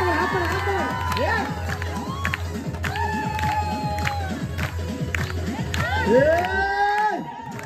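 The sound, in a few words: audience clapping and cheering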